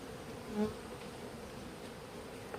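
Honeybees buzz on a beehive frame during royal jelly production, a soft continuous hum of many insects up close with brief louder passes.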